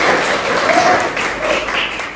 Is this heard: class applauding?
yes